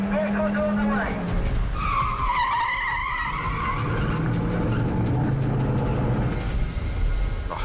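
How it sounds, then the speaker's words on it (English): A staged car chase stunt on the Las Vegas Strip during a film shoot, with tires squealing loudly as cars skid and engines roar close by. The noise runs continuously and is mixed with talk in the background. "I heard the rumour that they wanted to do a car chase here."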